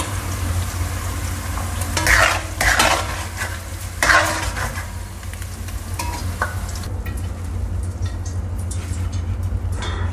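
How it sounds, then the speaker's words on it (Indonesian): Onion and garlic sautéing in a pan, a continuous crackling sizzle with a few louder stirring scrapes early on, then calmer frying, without any talk. "Lanjut tumis bawang bombay dan bawang putih sampai layu ya"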